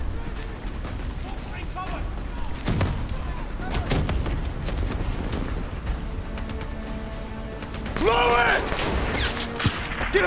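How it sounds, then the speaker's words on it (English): Javelin missiles strike in Call of Duty: Black Ops III with heavy booming blasts and crackling gunfire, a dense, loud barrage running throughout while soldiers' voices shout over the chaos. "Brace for impact! Javelin missiles inbound!"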